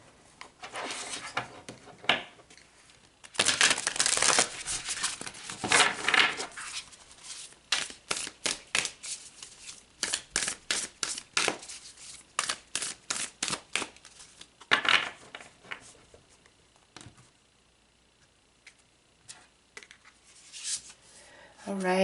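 Tarot cards shuffled by hand, a burst of dense riffling followed by a long run of quick separate card snaps and slides, close and fairly loud, then quieter scattered handling toward the end, with no talking.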